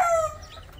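A newly laying Rhode Island hen gives one short, close cluck-like call that fades after about a third of a second into quiet barn ambience.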